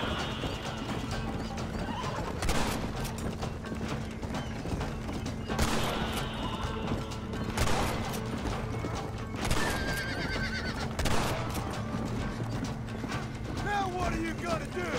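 Horses in the Red Dead Redemption video game trot with steady clip-clop hooves while several loud neighs and whinnies burst out over about fifteen seconds, alongside mechanical creaks and rattles.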